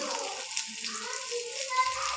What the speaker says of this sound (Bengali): ক্যাপসিকাম ঝালগুলো আমি একটু ভেজে নেব